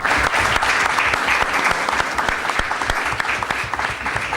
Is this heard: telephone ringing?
no